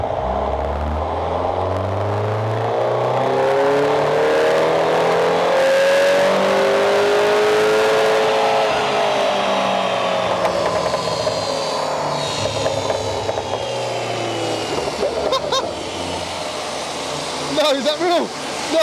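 A Mini JCW runs under its own power, its engine droning and rising in pitch as it revs up, then easing off and climbing again, loud and close, with a brief burst of other noise near the end.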